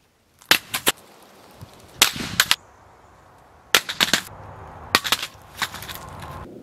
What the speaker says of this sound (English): I'm going to drop it from shoulder height, and I'm going to do it once every 500 rounds